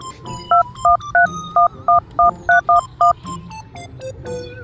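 A telephone keypad sends a quick run of about nine loud touch-tone beeps in an even rhythm, each a short two-note dual tone, over a quiet room background before a call.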